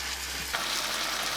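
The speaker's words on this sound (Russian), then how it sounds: "Перекладываем на сковородку, хорошо перемешиваем до получения однородной массы и оставляем тушиться на среднем огне несколько минут." Pork and beef mince sizzling in a frying pan while being stirred, with a continuous close crackle and a brief scrape of the stir partway through.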